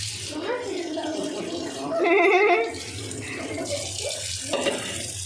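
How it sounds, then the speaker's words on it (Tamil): Water from a cooking pot is poured into a washbasin, a steady rushing stream with a brief louder pour in the middle, and a little rattling. "அப்படியே வச்சு வாஷ் பேஷனில் கொட்டிடணும்."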